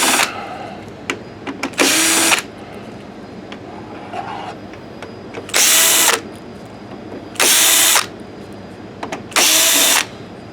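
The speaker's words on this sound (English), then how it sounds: "I am just pulling all the screws out all willy-nilly" A power screwdriver backs screws out while a Sanyo DLP video projector is torn down, four loud whirring bursts of about half a second each, with small clicks and handling noises between them, close up.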